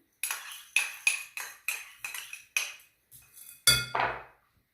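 A spoon clinks against a bowl in a series of sharp, ringing taps while nuts, chocolate chips and cinnamon are mixed together for a Turkish cake, close and clear with quiet gaps between strikes.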